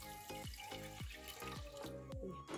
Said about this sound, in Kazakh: Кейін үстіне су құямын.